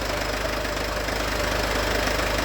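A Mercedes Vito van's engine runs steadily at idle with a close, continuous mechanical rumble and a faint rhythmic knock throughout, and nobody speaks over it.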